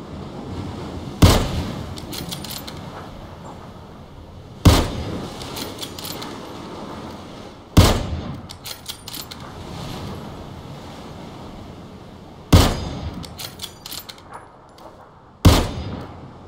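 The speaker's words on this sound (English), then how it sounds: "Shooting." Video game gunfire, five sharp single shots spaced a few seconds apart, each loud and cracking above a steady rushing wind-like ambience.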